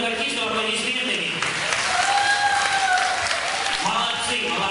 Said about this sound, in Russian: поддержите нас, юных артистов, аплодисментами